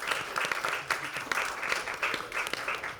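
Audience applause at a wellness and community panel event, steady mid-level clapping from a crowd sustained throughout.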